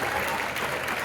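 Theatre audience at an Irish rambling house show clapping together, a dense, even wash of applause held at a steady level for about a second.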